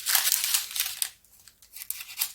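Thin plastic wrapping crinkles in a few close, bright bursts, loud at first, then pausing and returning in shorter rustles.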